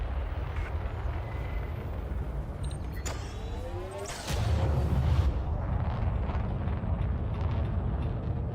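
A spaceship lifts off a landing pad in Elite Dangerous-style flight with retracting gear: a steady engine hum, sharp mechanical clunks and a sweeping whine, then a louder low rumbling thrust that carries on steadily.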